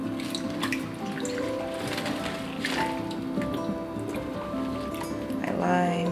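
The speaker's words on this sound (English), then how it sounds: "Washing my produce and water with a little bit of vinegar." Running water from a sink tap splashes steadily as produce such as limes and peppers is rinsed in water with a little vinegar, with someone speaking over the washing throughout.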